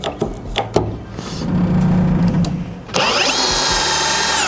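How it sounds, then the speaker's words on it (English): Power drill driving a screw into wood while building a shooting blind, with a 2x6 and speed square nearby; some handling clatter first, then a loud sustained whine of the drill motor that rises in pitch and runs to the end, close up. "I'm starting a screw on this side, just directly below this screw up here"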